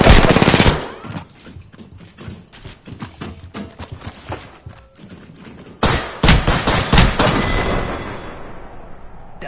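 Rapid bursts of gunfire in the battle royale shooter Apex Legends, loud and dense at the start, thinning into scattered shots, then a second heavy burst of shooting near the end, with game sounds in between.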